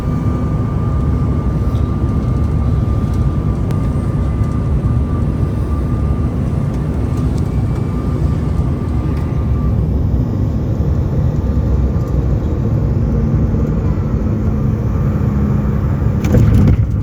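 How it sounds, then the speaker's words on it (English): United Express airliner landing on runway 27 right at Philadelphia, heard from inside the economy plus cabin: a loud, steady roar of engines and airflow with a constant hum runs throughout and swells briefly near the end. "We then pass the Navy Yard before landing on runway"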